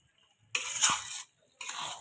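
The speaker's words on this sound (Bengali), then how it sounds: "এবার এটাকে কষাতে থাকবে" Crab being stir-fried with salt and ground coriander, chili and cumin in a pan: two short bursts of sizzling and scraping as the mixture is stirred, separated by a brief pause, fairly close and with no talking.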